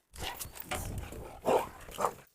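Dogs at play, one of them a Cane Corso, let out a few growling, grumbling vocal bursts up close, the last two louder and sharper, with no speech.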